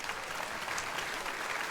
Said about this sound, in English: 45 or older, applaud.